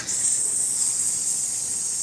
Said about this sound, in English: Even the sizzle don't even sound right.